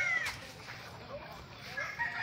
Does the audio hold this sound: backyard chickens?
yes